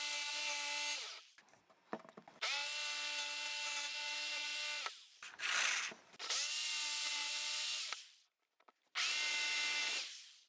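Power saw cutting a mounting slot for a KD electromagnet uncoupler, loud high-pitched whining runs with starts and stops, several sustained bursts separated by brief pauses and rubbing scrapes, with no talking.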